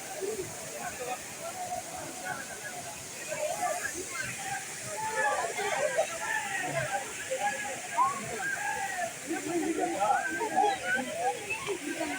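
Cold stream water rushes and sloshes continuously through a forest area, with people talking over the flowing water throughout.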